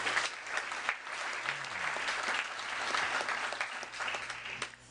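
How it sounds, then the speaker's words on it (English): A town hall audience gathered to discuss the events in Ferguson, Missouri, gives steady, sustained applause for about five seconds, the clapping dense and fairly close. "applaud yourself for being here"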